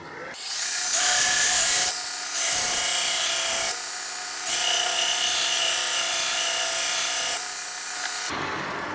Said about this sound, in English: this was the ultra fine conditioning belt. I used it just to take off the bluing and to refine the scratches on the edge just a little bit